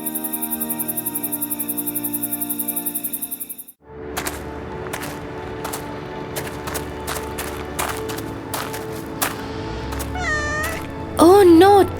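A hungry kitten meows in an animated children's fairy tale. Bright tonal notes come first, then after a short gap come scattered taps and a few high, wavering meows near the end, loud and close.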